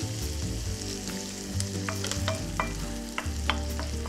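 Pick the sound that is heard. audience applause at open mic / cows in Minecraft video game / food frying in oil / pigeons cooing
food frying in oil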